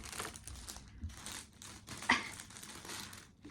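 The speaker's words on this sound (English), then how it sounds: "sorry about the rustling." Plastic packaging rustles and crinkles as it is played with indoors, in irregular close bursts with one sharper crackle near the middle, continuing steadily with no talk.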